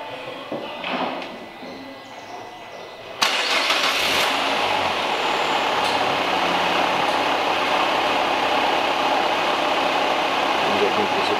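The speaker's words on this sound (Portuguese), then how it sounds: "Vamos dar a partida agora no veículo" A car with an AL4 automatic transmission cranks and fires up in a workshop, then settles into a steady, loud idle that runs on evenly.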